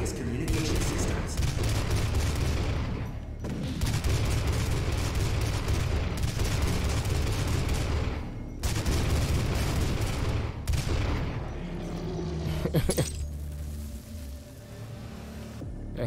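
Sustained heavy gunfire in Doom, long stretches of rapid, loud shooting broken by brief pauses, with booming impacts and a deeper rumble near the end.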